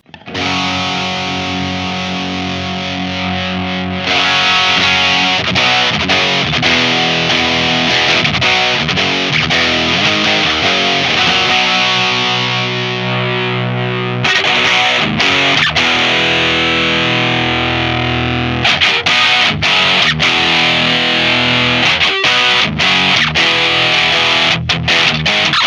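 Overdriven electric guitar through a Boss SD-1w Super Overdrive pedal set to a bright tone, loud sustained chords and riffs played continuously with several changes in texture.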